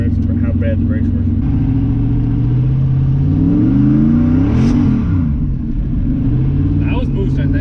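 A turbocharged LS V8 engine revs hard under boost and rises in pitch, roaring close and loud, with people talking over it.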